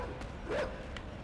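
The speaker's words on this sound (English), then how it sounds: "I hear a dog. I am going to run away from where I think the dog is." A dog barks in the dark side-scrolling game Inside, one short muffled bark rising out of steady low ambient rumble, distant and fairly faint.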